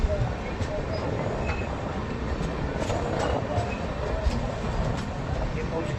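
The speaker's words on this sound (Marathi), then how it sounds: "आपली ट्रेन ही राऊरकेला जंक्शन गुवाहाटी एंटर करीत आहे" A passenger train pulls into Rourkela Junction station with a steady, dense rolling rumble and rattle throughout, and faint voices sit underneath.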